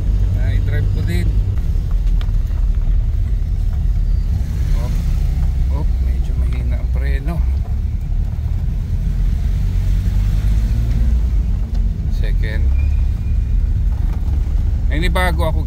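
A project car on its first drive, with a loud steady engine and road rumble throughout and people talking over it at several points.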